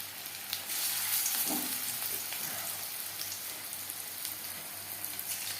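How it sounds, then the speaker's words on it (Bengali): Jute leaf pakoras shallow-fry in hot refined oil, giving a steady, close crackling sizzle that holds for the whole stretch, with a few small pops and the faint bump of a batter portion dropping in early on. "বেশ খানিকটা রিফাইন্ড অয়েল গরম করে নিয়েছি আমি এখানে শ্যালো ফ্রাই করছি"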